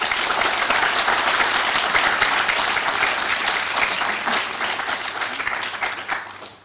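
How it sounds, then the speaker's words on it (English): Sustained audience applause fills a graduation ceremony hall for public health master's students, a dense wash of many hands clapping at once that stays loud and then tapers slightly toward the end. "Let's give them a big round of applause."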